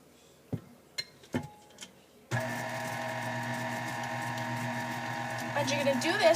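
A KitchenAid stand mixer whirring steadily as it beats vanilla cake batter, starting abruptly after a few knocks and clatters and running at a loud, even hum to the end, growing slightly busier near the close.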